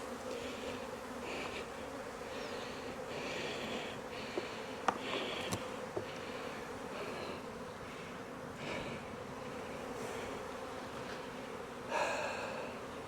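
Honey bees shaken off a honey frame into a hive while setting up a Rolling Demaree hive give a steady, dense buzzing drone that carries through the whole stretch, with a few soft knocks and a brief louder swell near the end.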